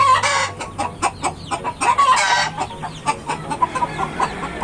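Chinese chickens, among them chicks, cluck and squawk in quick, repeated bursts close by, an uneven, busy chorus that fills the whole stretch.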